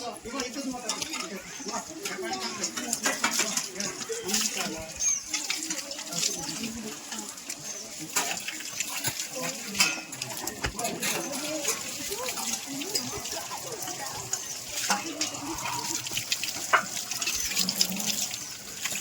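Tap water runs steadily into a sink during a school hand-washing demonstration, a constant gushing stream heard beneath frequent children's and adults' voices calling out.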